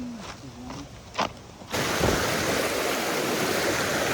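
A swollen mountain river in Uttarakhand rushes loudly and continuously nearby; a few faint sounds come first, then the roar of the water begins suddenly and fills everything.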